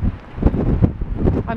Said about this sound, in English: as I turn around you guys will realise just how windy it is from the wind noise